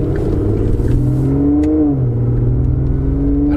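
An Aston Martin Vanquish, the flagship V12, runs with a steady, loud engine note that climbs in pitch briefly as it revs, then settles back to a smooth drone, close and alone without talk.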